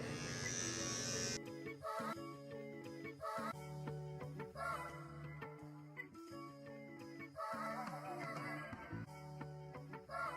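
A close, loud electric razor buzzes steadily while shaving off a full beard, its drone pulsing and shifting in pitch as it runs over the face in repeated passes. No one talks.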